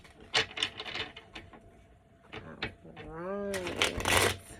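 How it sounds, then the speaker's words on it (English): A deck of cards is shuffled at close range in a quick riffling burst, with a person talking before and around it. "Then I'm going to shuffle the other deck."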